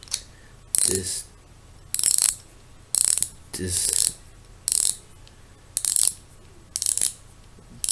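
A fishing reel's drag clicks in repeated short bursts of rapid ratcheting, about seven pulls spaced roughly a second apart, close up, with a word spoken once.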